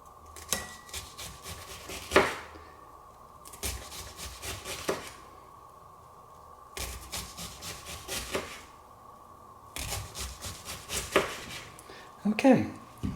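A knife chops sweet onion on a board in quick bursts of closely spaced taps, pausing between runs, fairly close and moderately loud, with a low steady hum underneath.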